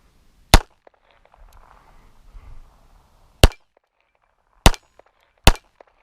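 Walther PPK/S pistol fired in double action, four sharp loud reports: one, a long pause, then three more spaced about a second apart, with faint shuffling between.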